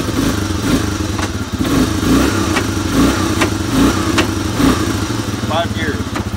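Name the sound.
Honda Big Red 250 engine running in gear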